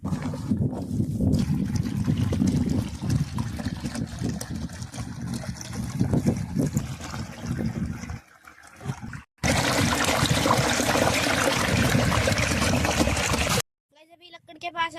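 Irrigation water running from a channel into a farm field, a steady trickling, gushing flow heard up close and fairly loud for most of the span, broken by a brief dip and cut, with speech mixed in.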